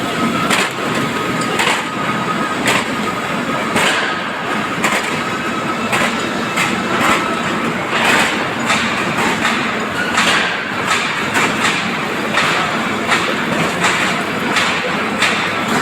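Pipe mill machinery runs steadily during pipe welding past stand and sizing rolls, a dense continuous industrial roar with repeated rhythmic thumps and clanks throughout, fairly loud and close.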